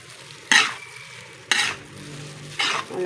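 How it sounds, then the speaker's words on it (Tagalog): Shrimp fry in a pan of hot oil as they are stirred. Three sharp, loud bursts of sizzling and scraping come at steady intervals, with a quieter hiss between them. "lagyan ko na ng hipon"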